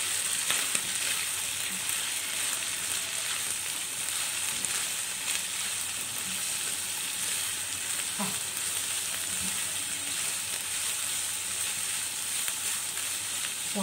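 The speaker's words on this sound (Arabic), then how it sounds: "هنزل بقى بيها على الشاورما بتاعتي اهي زي ما انتم شايفين كده، واقلبها بقى كويس قوي" Shawarma meat sizzles in a pan with onion, pepper and tomato slices, a steady, close frying hiss running throughout, broken by a few soft scrapes and stirs.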